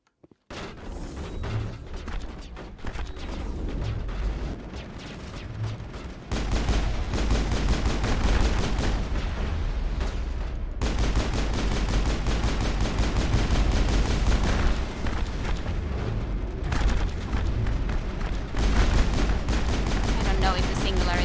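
Turret gunfire in the video game Mass Effect rattles in long, dense automatic bursts that grow louder and continuous after the first few seconds, with short pauses and heavy booming low end.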